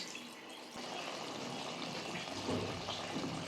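Water gushes and splashes steadily into a cooking pot of rice nearby, a continuous pouring sound without any voices.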